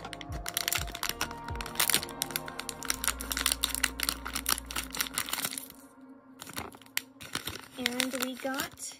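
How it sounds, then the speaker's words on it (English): Scissors snipping through a plastic merchandise bag, a rapid run of close, crisp snips and crinkles, followed by scattered rustling of the bag. "Now time to start cutting this bag."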